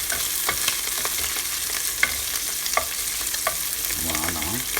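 Aubergines and onion frying in a pan give a steady, close hissing sizzle, with occasional scrapes and clicks of stirring throughout.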